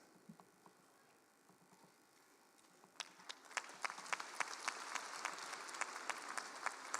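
Applause at a Pioneer International University graduation ceremony: a quiet hall with a few scattered claps, then from about three seconds a crowd breaks into steady, moderately loud clapping that continues to the end.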